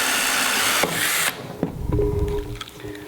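A power drill with a half-inch bit whines at high speed drilling a plastic bucket, cuts off abruptly, then a few knocks and a short lower motor buzz follow.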